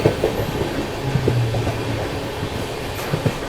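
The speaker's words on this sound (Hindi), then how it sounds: "सामने से भी कोई तो ट्रेन आ रही है" A passing train's rumble and rhythmic wheel clatter heard from aboard the Shiv Ganga SF Express between Banaras and New Delhi, steady and moderately loud with no voices.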